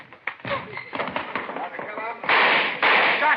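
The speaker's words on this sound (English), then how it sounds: "Shots, Joe." A burst of gunshots in a Dragnet radio drama: several sharp cracks crowd together, followed by two loud, broad blasts, all tangled with shouting voices.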